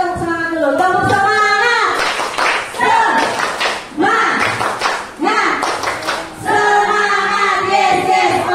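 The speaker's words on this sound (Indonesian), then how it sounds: "Coba kita tepuk semangat dulu." A group performs the rhythmic 'tepuk semangat' clapping chant in a classroom-style session, loud patterned claps mixed with chanted voices throughout.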